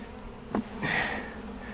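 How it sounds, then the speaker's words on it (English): Honey bees in a five-frame nucleus beehive: a brief soft buzz with one or two bees droning close past, over a faint low hum of the colony. "lots of bees in there now."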